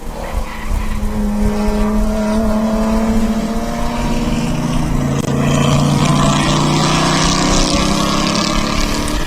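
Touring race cars at speed on the Sonoma circuit during a US Touring Car Championship round, engines roaring steadily and loud throughout with rising pitch as cars pass and a brief tire squeal, no talk.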